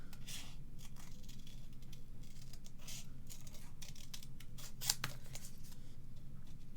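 Scissors snip and cut around a handmade music-themed greeting card. The close, quiet snips repeat in a steady, irregular run over a soft background.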